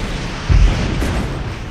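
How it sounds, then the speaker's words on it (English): Battlefield explosions in the real-time strategy game World in Conflict, a dense low rumble with a heavier boom about halfway through, under a continuous roar of combat noise. "It's absolutely frantic battles. There's explosions everywhere"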